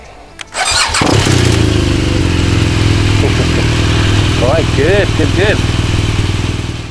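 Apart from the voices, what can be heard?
BMW R 1200 GS Adventure motorcycle engine starting and idling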